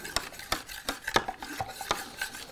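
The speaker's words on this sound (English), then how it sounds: "Give it a stir." Homemade isopropyl alcohol hand sanitiser stirred in a container, a quick run of close, light clinks and taps from the stirring utensil at an irregular rhythm, no voices.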